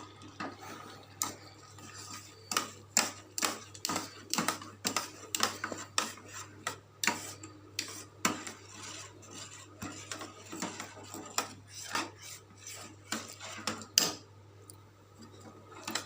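Sugar pumpkin halwa stirred in a pan after adding half a cup of sugar: a spoon repeatedly clacks and scrapes against the metal in an uneven rhythm, close by, with a low steady hum beneath.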